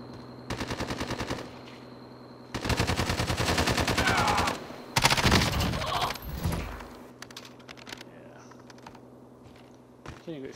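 Gunfire from a solo Call of Duty Warzone firefight: three loud, dense bursts of rapid automatic shots over the first seven seconds, followed by quieter scattered clicks and shots.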